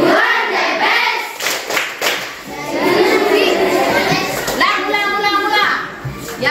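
Children in a classroom doing a rhythmic ice-breaking clap game, bursts of hand claps mixed with kids chanting and calling out together, loud and close, with a teacher's voice leading between rounds.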